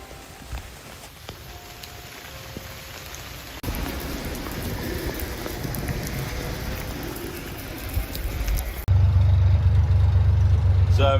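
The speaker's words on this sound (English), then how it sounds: "Right, up to this boatyard in the rain." Steady rain falls at a boatyard, a constant hiss of drops on surfaces that grows heavier midway, ending in a louder, closer low rumble of rain or wind.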